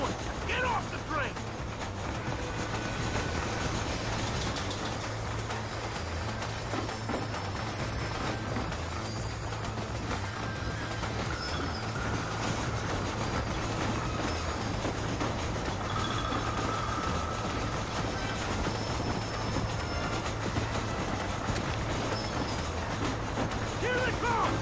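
A Red Dead Redemption train running at speed, its continuous heavy rumble and clattering wagons holding a level drone from start to finish, with voices calling out over the noise.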